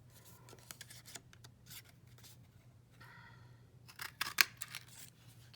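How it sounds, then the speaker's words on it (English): Scissors snipping through patterned craft paper to cut out leaf shapes for a card, a series of quiet crisp snips and rustles, with a sharper louder cluster of cuts near the end over a low hum. "we're going to cut out some leaves"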